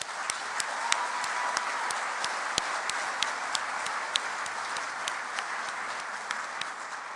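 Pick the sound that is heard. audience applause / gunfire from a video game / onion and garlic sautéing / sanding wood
audience applause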